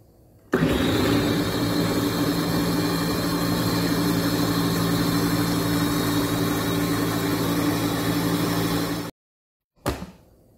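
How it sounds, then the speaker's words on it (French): An electric blender purees cut apple and pear for a homemade baby dessert, roaring loudly and steadily for about eight seconds before stopping abruptly, followed by a brief short burst after a pause. "Après, je vais pouvoir mixer."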